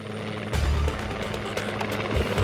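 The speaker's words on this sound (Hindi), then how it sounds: "हेलीकॉप्टर? ये कैसे अरेंज किया?" A helicopter drones steadily nearby, its heavy low rotor thump and engine whine filling the scene continuously and loudly throughout.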